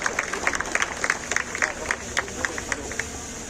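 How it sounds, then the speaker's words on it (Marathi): Audience claps at a Shivaji Jayanti celebration inauguration in Bhalki, a brisk run of close, crisp claps in irregular bursts, moderately quiet, with faint crowd murmur underneath. "सर्वांनी टाळ्या वाजवाव्या अशी विनंती"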